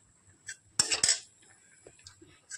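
Roasted coconut being scooped onto a metal plate: a few bright clinks and scrapes of a spoon against metal, with two louder knocks in the middle, close and alone.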